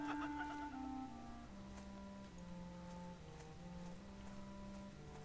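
Chickens cluck in World of Warcraft, a steady run of close, bright clucks and short calls over soft background noise, with no talk.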